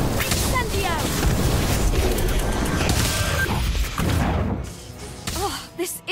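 Fiery spell effects in the Harry Potter: Magic Awakened video game, with crackling bursts and whooshing impacts layered over dense game music and sound effects, loud and continuous before thinning near the end.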